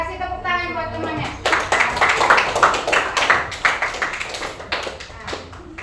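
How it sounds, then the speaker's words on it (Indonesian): Students in a school science class clap for a classmate after a presentation, a burst of scattered hand claps that starts after a second of quiet and runs on fairly close, fading slightly toward the end. "Ya, kasih tepuk tangan buat temannya."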